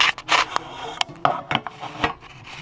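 An axle being pressed through a hub while someone lifts on a metal bar during a sprocket replacement, a series of short scraping and knocking bursts at irregular intervals, close and fairly loud.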